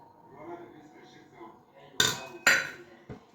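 Metal baking trays for homemade fino bread clatter and clink as they are handled and greased with oil, two sharp knocks standing out above quieter background sounds.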